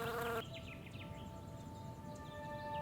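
Honeybees foraging on backyard lavender flowers make a faint, steady insect buzz in the Cincinnati area, with a brief louder hum at the start and light bird calls in the background.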